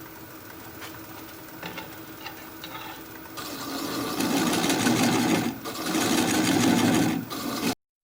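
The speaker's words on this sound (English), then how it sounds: "I'm going to take a little 1/4 inch spindle gouge and just cut a groove where that little 2-inch button meets the base" A 1/4 inch spindle gouge cutting a groove into a turned wooden bowl base on a lathe, a steady whirring hum that thickens into a louder, rougher scraping cut about halfway through.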